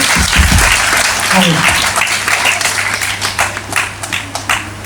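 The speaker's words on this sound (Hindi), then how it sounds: "बहुत बच्चे अपने लिए क्लैप करो, ताली बजाओ जोर से।" Schoolchildren at a CM Shri School event clap loudly together, a dense burst that thins into distinct rhythmic claps, with a voice heard near the start.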